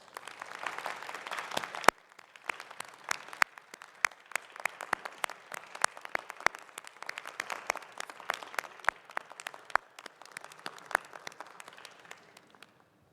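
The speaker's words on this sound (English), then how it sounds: "Let's show our graduates a Firebird round of applause." A large audience at the University of the District of Columbia 2021 commencement applauds the graduates with sustained, dense clapping that holds steady for several seconds before thinning and fading out.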